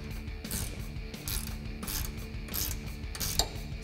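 A ratchet wrench and socket tighten an 11 mm bolt during a 3.5-inch lift kit install on a Jeep Wrangler JK, with rapid pawl clicking in short repeated strokes, close but fairly soft.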